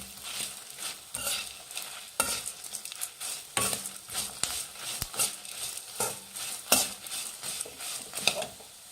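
Coriander seeds dry-frying on a low flame for bisi bele bath powder, with a soft sizzle and repeated spatula scrapes and stirs against the pan that come in an irregular rhythm, close and fairly quiet, with no talking.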